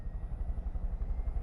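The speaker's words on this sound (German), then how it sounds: "Und dann haben wir hier einen Helikopter." A helicopter in the video game Far Cry 5 drones with a low, steady rotor thump that pulses rapidly throughout, close and fairly loud, with no voices.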